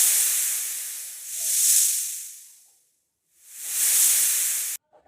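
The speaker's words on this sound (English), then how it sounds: "snake, Hisses" A snake gives two long, loud breathy hisses, each swelling and fading, with a brief silent gap between them, then cut off abruptly.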